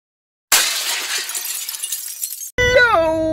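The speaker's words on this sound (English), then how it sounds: "Smashing." Glass shattering loudly and close after a moment of silence, a bright crash with scattered tinkling fragments for about two seconds, then cut off abruptly by a different tonal sound.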